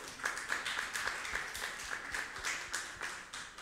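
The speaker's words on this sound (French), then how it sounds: "On peut les applaudir." An audience applauding fathers at a parents' and children's celebration, a faint, steady patter of scattered clapping from a modest crowd, with no talk.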